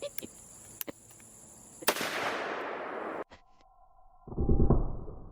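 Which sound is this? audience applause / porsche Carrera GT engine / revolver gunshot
revolver gunshot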